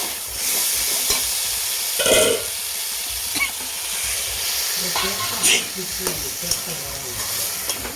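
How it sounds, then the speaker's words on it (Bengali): Water goes into a pan of frying mixed vegetables, setting off a loud hissing sizzle and steam, with repeated spatula scrapes and stirs continuing through a steady frying bed. "এখন আমি এটাতে জল দিয়ে দেবো।"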